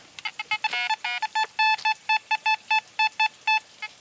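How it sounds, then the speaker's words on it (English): Metal detector over buried coins in woods, sounding a rapid series of sharp, high electronic beeps in quick bursts, close and clear with no speech. "there's definitely still that high signal in there"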